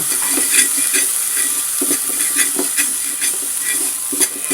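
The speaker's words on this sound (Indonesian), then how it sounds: "Kita bisa sangrai dengan api kecil saja hingga kering." Chilies, garlic and dried shrimp dry-roast in a pan without oil over low heat, giving a continuous dry hiss with repeated scraping stirs and light pan knocks throughout.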